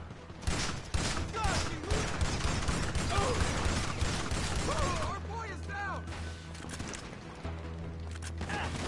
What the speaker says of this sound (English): Let's use the shotgun.